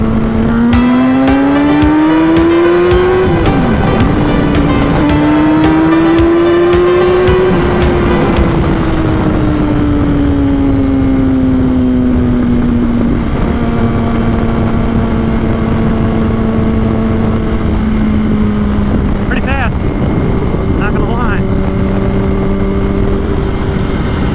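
A 2006 Yamaha R1 motorcycle engine pulls hard in second gear, a loud close-up tone rising and sliding in pitch over steady wind rush.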